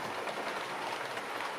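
Trains roll past near a garden with flowers, a steady rumbling wash of rail noise and faint wheel clatter that holds constant throughout, with no voices.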